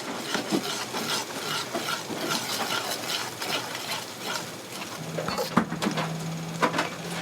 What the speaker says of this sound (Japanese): 焦がしたりいかんけど炒めなあかん